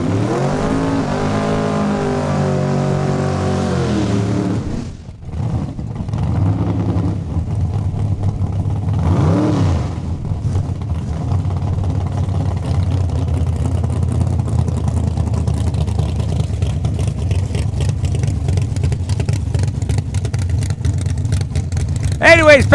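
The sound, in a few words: drag racing cars launching at raceway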